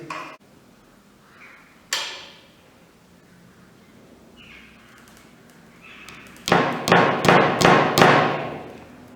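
A few isolated knocks, then a quick run of six sharp taps from a small hammer striking nails while building a bird feeder, close and crisp, over a quiet background.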